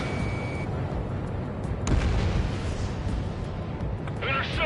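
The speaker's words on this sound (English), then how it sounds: "Fire the AA!" Anti-aircraft fire in Ace Combat 7: Skies Unknown makes a continuous rumbling roar with a louder thudding burst midway and scattered crackles, with voices alongside.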